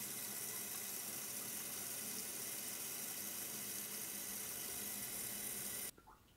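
A tap runs in a steady, hissing stream of water for about six seconds and then cuts off abruptly, leaving near silence with a faint small knock.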